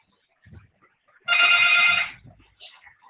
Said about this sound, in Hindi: एक सेकंड, जरा फोन आ है किसी